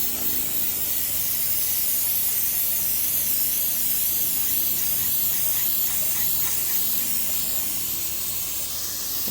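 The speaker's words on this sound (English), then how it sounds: "we're going to use this aircraft remover" Aircraft paint remover sprayed in a steady, continuous hiss onto the painted metal of a Kansas drive-in movie speaker, close and loud throughout with no pauses or talk.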